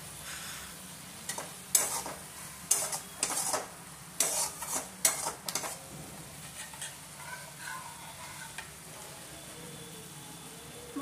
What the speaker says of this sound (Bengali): প্লাস মশলাটা একটু কষিয়ে নেব